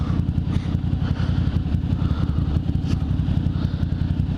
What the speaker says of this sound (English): when I ride this bike